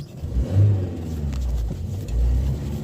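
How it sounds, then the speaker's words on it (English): A Wartburg car engine runs with noisy tappets, a loud, close low rumble that rises and falls with revving under a faint, steady ticking clatter. "apparently the tappet should quieten down a bit once it warms up, hopefully"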